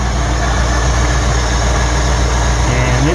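A Ford engine fitted with a Chinese-made 2100 carburetor idles on cold choke, a loud, steady, close rumble that holds even throughout.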